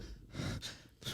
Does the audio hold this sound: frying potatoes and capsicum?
no